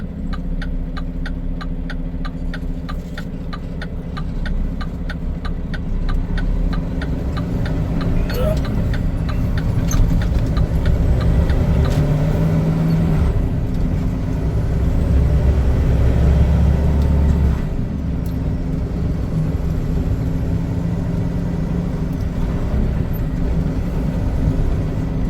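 A dump truck hauling asphalt rumbles steadily through city streets in a New Jersey neighborhood, the engine note rising and falling with a ticking indicator early on; no voices.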